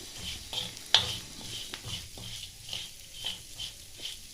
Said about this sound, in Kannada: ರೈಸ್ನಿಗೆ ನಾನು ಒಗ್ಗರಣೆ ಹಾಕ್ಕೊಂಡಿದ್ದೀನಿ